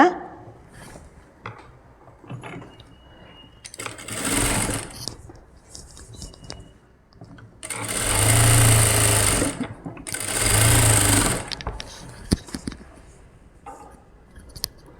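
A sewing machine sews a half-inch seam on an umbrella gown in three separate loud whirring bursts, the last two longest. Quieter fabric handling fills the gaps between bursts.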